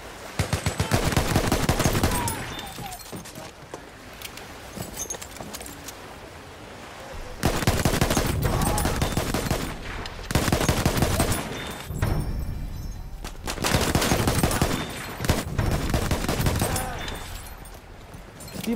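Machine gun fire in Battlefield 1 rattles in long, dense bursts, loud and close, broken by short lulls, with battlefield din around it.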